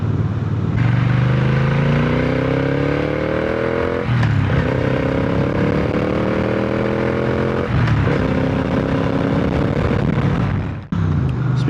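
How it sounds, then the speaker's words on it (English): A motorcycle with a 1200cc parallel-twin engine rides along at close range, rising through gears with throaty acceleration and brief dips at each shift amid wind noise, with no talking. "It's got that really nice 1200cc parallel twin, which is going to do great on the highway"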